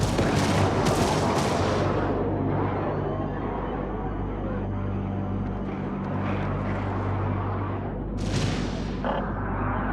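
Weapon fire during a space battle in Homeworld 3: dense, loud, continuous blasting and rumbling with engine drone, plus bursts of crackling fire early on and again near the end.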